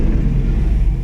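A grain truck's engine runs as a low, steady, rumbling drone, loud and close from inside the cab, unbroken for about a second.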